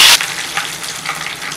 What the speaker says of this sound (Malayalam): കടുകൊക്കെ ഒന്ന് പൊട്ടി വരട്ടെ.